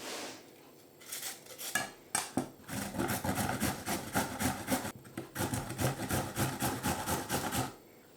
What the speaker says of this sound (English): And then we'll grate the carrot in.